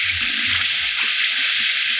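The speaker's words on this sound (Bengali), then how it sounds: "এবার দিয়ে দিচ্ছি কিছুটা জল, আর দিয়ে দিচ্ছি 2 চামচ চিনি" Water is poured into a pan along with sugar, producing a steady, close hissing splash that runs unbroken for the whole moment, with no talking.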